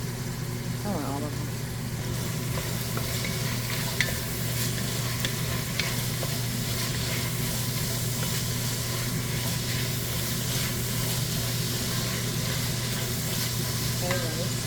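Onions fry in a pan for a homemade spaghetti and meatballs dinner, a steady close sizzle with occasional stirring scrapes, over a constant low hum and a few spoken words.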